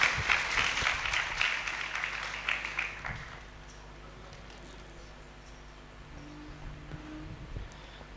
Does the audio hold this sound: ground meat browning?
no